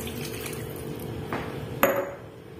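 Water poured from a glass into a dish while cooking lamb shoulder, a short faint trickle and splash with a small clink of glass on the dish near the end.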